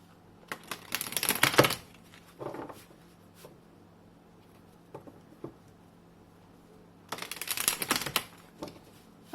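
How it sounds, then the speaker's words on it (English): Tarot cards are riffled and shuffled in two quick bursts of crisp, flapping patter, with softer taps and card handling between them in a quiet room. "I just feel like I need to shuffle once more."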